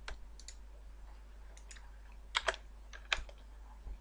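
Mouse clicks on a computer while working in 3ds Max: a few sharp, close clicks spread across a quiet room, with two paired clusters standing out. No talking.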